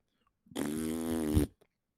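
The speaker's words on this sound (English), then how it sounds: "That fart noise was like the water hitting my asshole" A loud, wet fart-like blast from shower water striking bare skin, one sustained buzzing burst of about a second that swells slightly before stopping abruptly, close up with no talk.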